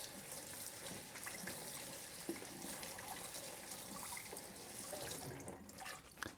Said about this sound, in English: So I'm just rinsing them off.